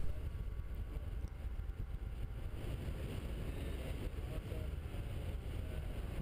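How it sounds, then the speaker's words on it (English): Steady roaring wind rush inside a moving Porsche 944 S2 cabriolet with the top down, a constant broadband whoosh with low engine rumble underneath and no talking. "The wind noise in the car is pretty good."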